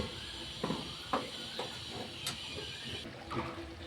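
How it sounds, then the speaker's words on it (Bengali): Paneer simmering in water in an uncovered pan for chilli paneer, giving a steady hiss with a few soft bubbling pops and light clinks standing out above it. "ঢাকা ছাড়াই এই পনিরটা কিছুক্ষণ ফুটিয়ে নেব"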